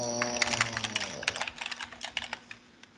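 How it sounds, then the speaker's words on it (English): A password is typed on a computer keyboard in quick, uneven clusters of crisp key clicks, close and clear, with a steady low hum underneath and no talk. "I'll type in my password if I can remember what it is"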